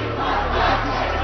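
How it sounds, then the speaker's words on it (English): An angry crowd gathered at Kensington Town Hall in London makes a dense, continuous roar of many voices, loud and close, with no single speaker standing out. "A crowd gathers at Kensington Town Hall."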